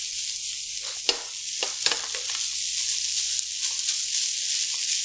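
Chicken fried rice sizzles steadily in a hot pan, a dense crackling hiss with a few sharper pops and scraping stirs, heard up close without talk.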